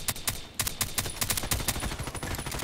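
A suppressed VSS Vintorez rifle fires in a shooter game, a fast series of muffled, snappy cracks in quick succession with mechanical clacks between them, moderately loud and without talking.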